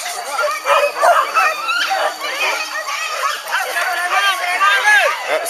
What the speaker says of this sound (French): Ah, c'est des chiens qui se battent.